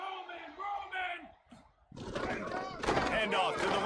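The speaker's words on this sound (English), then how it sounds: "this crowd is not going to fade away" A stadium crowd in the College Football video game, roaring loud and swelling over the last two seconds after a stretch of shouted voices and a brief lull.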